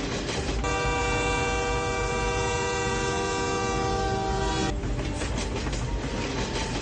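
A cartoon double-decker train rolls along with a loud, steady rumble and clickety-clack, and a long blaring horn sounds through most of it before the rhythmic wheel clatter takes over again.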